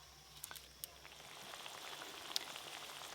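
Fish curry gravy bubbling in a pan on a village kitchen stove, a steady soft simmer and sizzle with occasional small pops, fairly quiet and close, with no voices.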